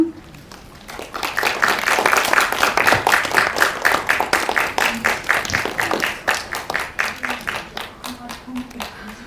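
Applause at a film press conference for a Korean movie, many hands clapping in a busy rippling burst that swells early, then thins and tapers with scattered claps toward the end.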